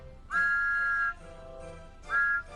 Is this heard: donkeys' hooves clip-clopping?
no